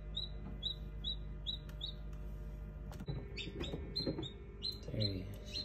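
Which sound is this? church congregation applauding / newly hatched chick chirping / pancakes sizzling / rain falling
newly hatched chick chirping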